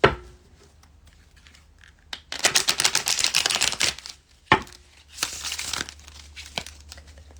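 Two bursts of crisp, riffling card shuffling, each lasting about two seconds, with a sharp tap between them and quiet gaps.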